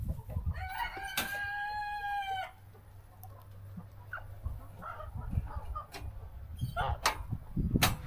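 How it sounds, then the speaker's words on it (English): A rooster crows once, in full, at moderate distance, followed by scattered clucks and rustling from poultry as they are being relocated, with faint voices here and there. "I just heard him crowing."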